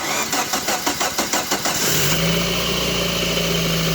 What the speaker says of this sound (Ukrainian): Машина завелась у нас без проблем.